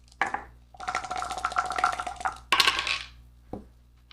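HeroQuest attack dice, three of them, rattle and tumble across a tabletop in a short burst of clattering, followed by a brief settling click.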